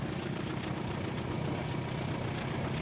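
Diesel locomotive engine in Trainz Simulator at full throttle on a climbing grade, a steady, dense low rumble that drones on without pause for the whole stretch, with no talking.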